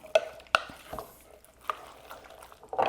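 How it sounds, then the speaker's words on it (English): Baked beans with long-cooked onions being stirred in a pot, giving a few soft scraping and thick wet sloshing sounds with a couple of sharper clinks of the spoon against the pot, close and quiet. "I'm just gonna give it a stir."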